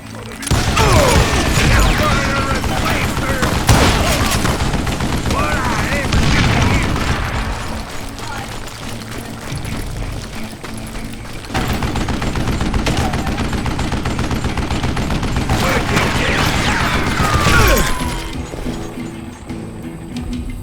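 Heavy gunfire from the Call of Juarez: Gunslinger video game: sustained bursts of shots and booming reports fill most of the stretch, loud and dense, easing briefly in the middle before picking up again.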